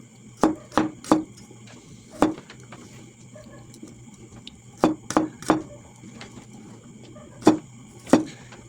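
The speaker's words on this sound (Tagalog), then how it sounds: "Tapos yung bawang. Yan ko lang paghiwa." A knife chops garlic on a cutting board in short bursts of two or three sharp, close knocks separated by pauses, over a faint steady background hum.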